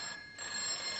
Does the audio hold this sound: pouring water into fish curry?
no